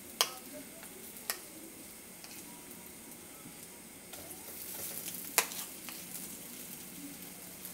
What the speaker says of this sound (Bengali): এবার দেব এর মধ্যে সেদ্ধ করা আলু